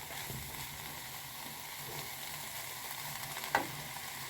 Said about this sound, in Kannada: ಸ್ವಲ್ಪ 2 ನಿಮಿಷ ಈರುಳ್ಳಿ ಫ್ರೈ ಆಗುತ್ತೆ.